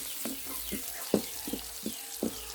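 Mixed vegetables for a squid and oyster sauce stir-fry sizzle in a pan, with a soft frying hiss punctuated by about six distinct spatula knocks at an uneven pace.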